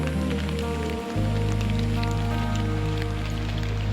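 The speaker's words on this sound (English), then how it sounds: "Well, I don't mind the rain." Steady rain falls in a mossy Washington forest, a dense, continuous hiss close by with a low rumble that strengthens after a brief dip near the start.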